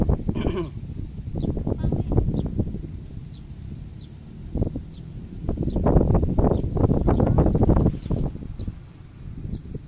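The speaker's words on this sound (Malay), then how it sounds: "Kuat angin." Strong seaside gusts near a lift bridge in Kuala Terengganu buffet the microphone with low rumbling roar, rising and falling, while people talk nearby under the wind noise.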